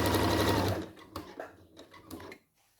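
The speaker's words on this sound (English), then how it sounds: "and then sew around your pocket." A sewing machine stitches around a skirt pocket in a loud, steady run that stops abruptly, followed by quieter clicks and handling of the fabric.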